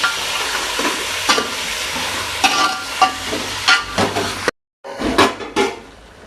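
Washed, salted chicken cooking in a pan with softened onions and chillies for gongura chicken curry, a steady close sizzle broken by scraping stirs, with a short silent gap before stirring resumes.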